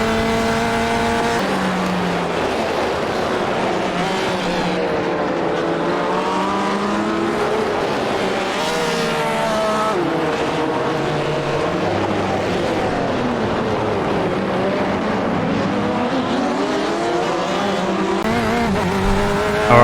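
Corvette C8.R race car engine in the iRacing sim at Long Beach, a loud continuous roar rising and falling through gear shifts, with tires squealing now and then and no voices.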